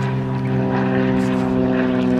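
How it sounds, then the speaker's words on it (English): A propeller airplane drones loudly overhead with a steady, humming engine tone that holds throughout, with no talking. "come on airplane."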